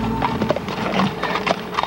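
Horse hooves clip-clop in a steady, uneven patter while the horse whinnies, close and fairly loud, with no talking.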